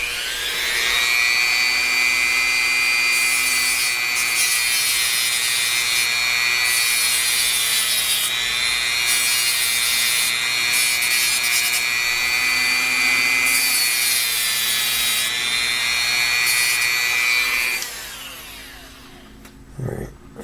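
Steady power-tool grinding and rubbing on a prop blade as its back edge is trimmed down, a continuous loud whirring abrasion close up that runs for most of the time before stopping near the end.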